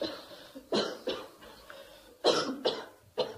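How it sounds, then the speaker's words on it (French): A woman coughs in several sharp bursts, a pair early and a cluster of three later, heard fairly close with quiet pauses between. "La dame qui tousse, là."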